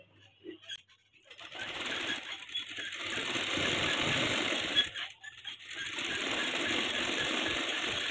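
A sewing machine stitches a blouse back-neck seam, running steadily and fairly loud for most of the stretch with a short pause near the middle, no talk.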